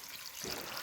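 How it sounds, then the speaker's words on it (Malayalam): A brief, close rush of water poured into a cooking pot during Kerala home cooking, a short hissing splash that builds slightly toward its end. "വെള്ളം കൂടെ ഒഴിക്കാം."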